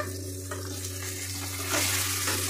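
Pitha frying in hot oil, a steady close sizzle that swells louder toward the end, with no voices over it.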